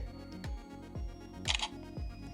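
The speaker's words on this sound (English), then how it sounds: "I'm gonna shoot my shot and take the selfie" An Instax Wide Evo instant camera fires its shutter for a selfie while plugged into a USB-C charger, giving a few close, crisp mechanical clicks and whirs spaced through a short stretch with no talking.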